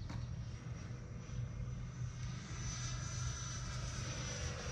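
An E-Flite F-16 model electric jet makes a slow flyby with a roll, a steady faint whooshing drone with a high whine held throughout.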